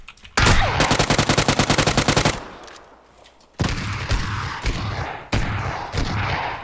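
Gunshots at close range: a rapid burst of about two dozen loud automatic shots, a brief lull, then several heavier single shots with echoing tails, no speech.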